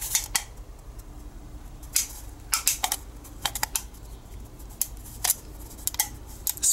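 Scissors cut along a marked line on a thin aluminum Coke can, producing irregular sharp snips and crinkly metallic clicks in uneven bursts, close and fairly quiet, with no talking.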